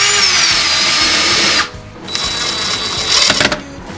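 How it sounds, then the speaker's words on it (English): A power drill bores pilot holes into a door while fitting a Kwikset lock, whining loudly and steadily, stopping briefly, then running again in a rougher, shorter burst. "To prevent the door from splitting, we're going to drill a few pilot holes."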